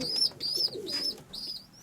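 Pigeons in a dovecote coo and chirp nearby, several short calls in quick succession with soft rustling between them, fairly quiet and with no talking.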